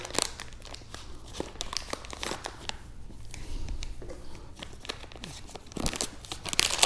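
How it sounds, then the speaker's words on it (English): Crinkly plastic wipes package with resealable tape being peeled back, giving close, quiet crackling and tearing rustles in short bursts, with a brief soft voice. "You just peel it up and there's the hole so you can grab the wipe."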